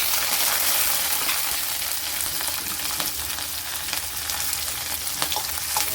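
Finely chopped onions and chillies sizzling in hot oil in a home kitchen, a steady loud frying hiss with occasional crackles and stirring, no voices.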